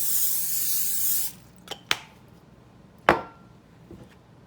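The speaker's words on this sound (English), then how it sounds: "We're going to go ahead now and spray our casserole dish" A sustained hiss of cooking spray coats a casserole dish for about a second, followed by a few sharp knocks and clunks of kitchen handling.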